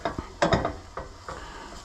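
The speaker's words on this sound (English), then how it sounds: "mix it all in together, mix the onions, spices, the ginger and the garlic" Onions, spices, ginger and garlic being stirred in a pan for a curry, with a few scraping strokes of a utensil against the pan over a soft sizzle, close and fairly quiet.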